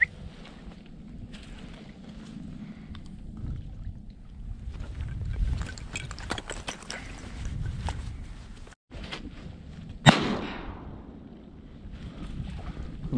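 A single sharp shotgun blast rings out while hunting teal ducks on the water, sudden and loud, then trails off over constant wind buffeting and boat rumble.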